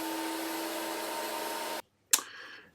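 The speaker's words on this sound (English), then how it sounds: "It is really satisfying using this machine to see the wood come out just absolutely smooth and perfect like that" Woodworking machine smoothing striped hardwood, a loud steady whine and roar that cuts off suddenly, followed by a sharp knock and a fading rattle, no talk.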